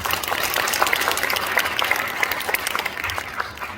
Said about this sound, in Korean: 축하 박수 해주시기 바랍니다.